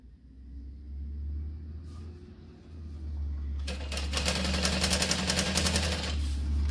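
A sewing machine bastes a bucket bag, starting in the second half as a rapid rattling run of stitches over a constant low motor rumble.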